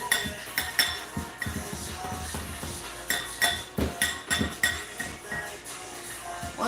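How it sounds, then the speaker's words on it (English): A small metal pastry cutter works through dry ingredients for Chinese donuts in a bowl, giving repeated clinking, scraping strokes at close range in an irregular rhythm, with no talking. "this is my little pastry cutter. I'm just going to mix all the dry ingredients together"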